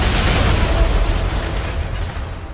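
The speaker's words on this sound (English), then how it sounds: "We need an artillery strike here." A loud artillery strike explosion in a video game, a deep rumbling blast that rolls on and slowly fades, with no voices over it.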